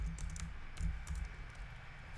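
Quick light clicking of typing on a computer keyboard runs quietly under a low background hum, with a few sharper key taps standing out.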